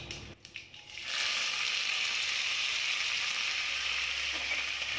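Curry leaves and dried red chillies sizzle in hot oil for green gram rice, a brief crackle at the drop settling into a steady, close, bright hiss that fills the rest of the moment with no voices.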